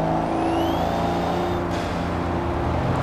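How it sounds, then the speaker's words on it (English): A turbocharged Mazda engine in the video game Forza Horizon 4 drones loudly with a rising turbo whine climbing in pitch, steady and close throughout. "the turbo just goes and gets it super loud."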